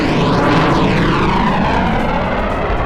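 DJI Mavic 4 Pro drone flying past at speed, a loud, steady whining buzz with a sweeping pitch that shifts as it passes close by, filling the whole clip with no voices.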